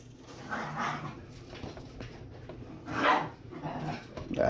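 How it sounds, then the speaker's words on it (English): Several small dogs barking and growling rowdily somewhere in the background, bursts of yaps rising and falling at a moderate distance while oil sizzles nearby. "I bet y'all can hear the dogs back there getting rowdy"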